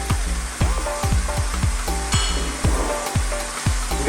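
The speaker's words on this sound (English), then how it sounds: "We're now going to put in our chopped tomatoes." Chopped tomatoes hit ground beef frying in a hot pan for a Greek stuffed aubergine filling, giving a loud, steady sizzle with a regular series of dull thumps and scrapes from the pan, with no talking.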